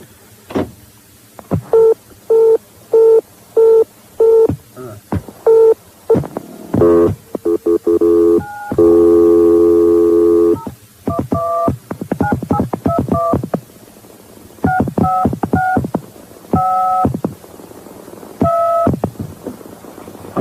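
Telephone keypad tones beep in short, evenly spaced bursts, then in quicker irregular clusters, with a longer ringing tone partway through, loud and alone with no voices over them.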